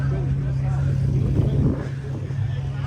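Supercars including a Ferrari 812 GTS and 488 Pista start up and rev at a toy rally, a low steady engine drone with a brief louder rev swell midway, under crowd murmur and outdoor voices.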